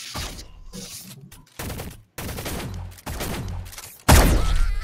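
Bolt action sniper rifle fire in the online shooter Shell Shockers, a series of sharp loud synthetic gun blasts spaced irregularly with short gaps, the last one heaviest, over game sounds with no talk.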